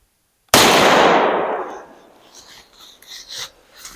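A single sharp rifle shot rings out during a deer hunt in southeast Ohio woods, a loud crack that fades into a long decaying echo, followed by faint rustling.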